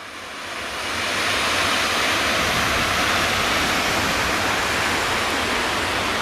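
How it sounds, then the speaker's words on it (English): A steady, loud roar of rushing water, like a big waterfall, swells in over the first second and then holds a dense, unbroken wash. "makes that big, beautiful waterfall"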